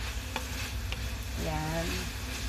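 Burdock root (gobo) frying in a pan and being stirred, a steady soft sizzle with scraping stir strokes and a brief squeaky rasp partway through, close up with no talking.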